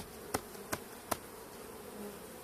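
Caucasian and Carniolan honeybees at a hive readied for winter, a faint, steady buzzing drone with three sharp clicks or taps in the first second.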